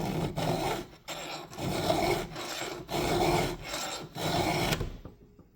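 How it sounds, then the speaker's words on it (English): A hand file being drawn across chainsaw chain teeth during sharpening, giving five even rasping strokes in a steady back-and-forth rhythm, close and fairly loud, with short gaps between strokes. "We've been filing nice and straight, not curving back and forth."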